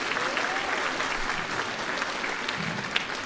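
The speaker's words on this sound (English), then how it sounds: "Round of applause for Mrs." Steady applause from the audience at an 8th grade school band and jazz concert, a continuous dense wash of clapping throughout with no pause.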